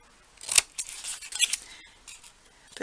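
Scissors trimming the corners of paper for a concertina fold album, several quick crisp snips and small rustles close by, quiet and with no talking.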